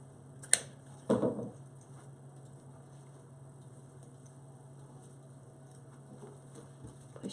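Scissors snip through the tail of a Halloween ribbon bow at an angle, a single crisp cut followed by a short rustle of ribbon, close and clear over a steady low background hum.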